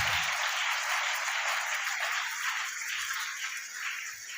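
A church congregation at an Easter service claps together, a dense burst of applause that holds steady and then slowly thins out, heard alone without speech.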